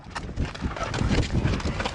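A vault horse named Sadie trots on a lunge line, with continuous muffled hoofbeats and broadband rumbling that sound close and steady over the full stretch.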